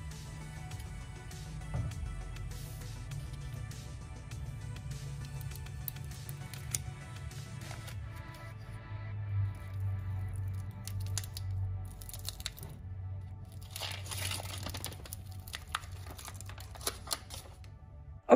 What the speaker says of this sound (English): We used the wax label paper. And so we're just gonna peel it right off.